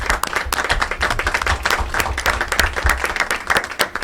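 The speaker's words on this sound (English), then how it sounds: "join me in giving this team a round of applause" An audience at a school board of education meeting applauds the program team, with dense, steady clapping throughout and no break in the sound.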